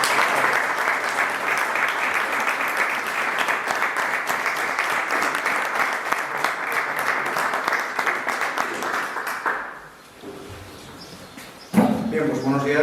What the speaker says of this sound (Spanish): recíbale con un fuerte aplauso.